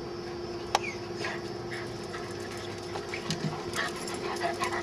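A dog tugging on a toy whimpers softly and pants in a steady rhythm, close and fairly quiet, with a sharp click early on.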